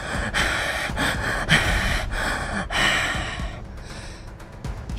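Heavy panting after running, a story sound effect: repeated loud, breathy gasps in a quick rhythm, close and up front, slowing and fading toward the end.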